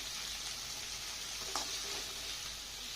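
A soft, even sizzle of tomatoes and shallots frying for a yellow pumpkin kara kuzhambu continues throughout, with a single quick stir of the pan partway through.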